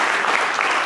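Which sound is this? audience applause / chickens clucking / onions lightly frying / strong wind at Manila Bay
audience applause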